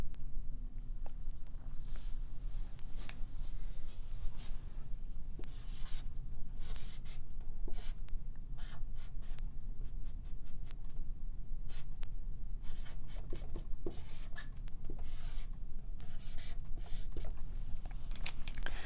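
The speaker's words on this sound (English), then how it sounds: "I'm writing this rate law in terms of the concentration of our product" Pen writing out a chemistry rate law by hand, a steady close scratching of strokes and taps running throughout at a moderate level, alone without talk.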